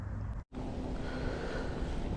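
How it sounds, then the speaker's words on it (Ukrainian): Strong wind gusts across a lake on a cold evening, a loud, steady roar of wind buffeting the microphone with one brief cut-out near the start and no talk. "дуже сильний вітер роздувся"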